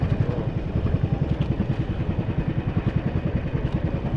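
A boat motor engine chugs loudly and steadily nearby, a rapid rhythmic low putter running continuously.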